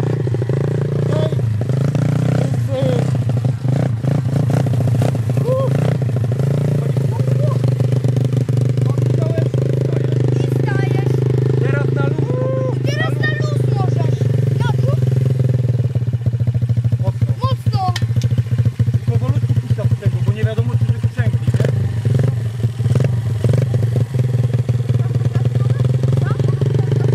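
Learner motorcycle engine running steadily and revving as the clutch is let out, loud and continuous throughout, with someone talking over it.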